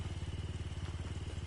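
Motorcycle engine in the Fortnite video game, a steady, rapidly pulsing idle-like putter that stays at an even loudness throughout, heard fairly quietly with a faint crackle in the background.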